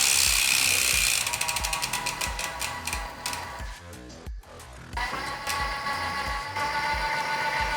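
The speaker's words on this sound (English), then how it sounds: "just get the chain and just like to run it back here." E-bike chain turned backward by hand, the freewheel giving a loud, close, rapid ratcheting click that speeds up, pauses briefly, then resumes steadily, with no voices.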